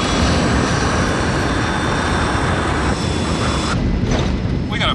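Loud, steady roar of a four-engine airliner's engines in flight, a dense broadband drone with a whining high tone, one engine on fire, holding constant with a slight shift near the end.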